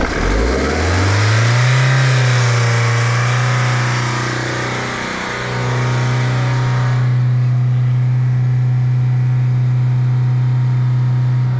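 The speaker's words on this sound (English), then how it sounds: "So that's your first load of revving, and then we're obviously idling for 30 seconds." A Ford Mondeo 2.0/2.2 TDCi diesel engine, under an injector leak-off test, revs up and holds a high steady drone, drops briefly, then settles into a sustained loud hum, heard close without talk.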